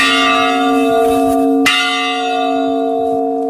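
Church bells toll for the dead, with a loud, close ringing stroke whose long resonant hum fades and is struck again, alone without any voices.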